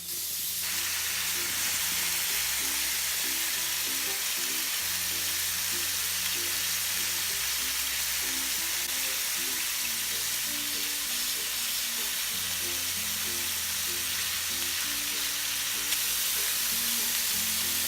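Meat and onions sizzling on an outdoor grill, a loud steady frying hiss and crackle that runs throughout, with a faint musical backing beneath it.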